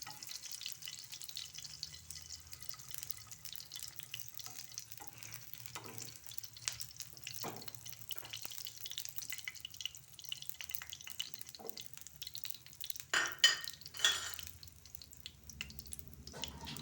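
Egg batter frying in hot oil, a soft continuous sizzle with faint crackles and a few brief louder spatters near the end, quiet and without voices.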